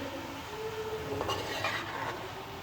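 Radish curry (mooli ka salan, daikon) sautéed uncovered in a pan over medium heat, giving a steady close hiss with a few faint stirring scrapes and no talk.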